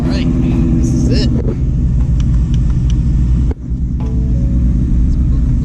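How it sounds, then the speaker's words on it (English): Several cars of a Ford Mustang S550 convoy at a meet in Brandon, Florida, rumble steadily nearby, a continuous low engine drone with a brief dip, as people talk over it. "It's a little bit of a convoy here, so everybody's getting ready to go."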